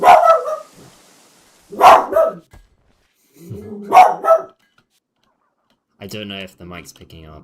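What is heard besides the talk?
dog barking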